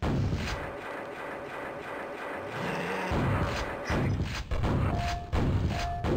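Grenade explosions and weapon fire in the video game Quake, dense repeated thuds and booms over a constant game background, loud and close.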